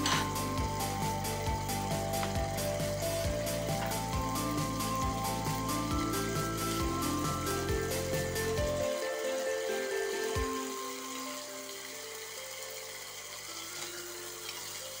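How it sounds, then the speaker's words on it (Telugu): Fish curry ingredients fry in a pan with a steady, continuous sizzle that drops noticeably quieter about two thirds of the way through, with no talking. "ఇవి పచ్చివాసన పోయేదాకా బాగా వేగనిచ్చి అప్పుడు దీంట్లో ఈ పేస్ట్ కలుపుకోవాలి"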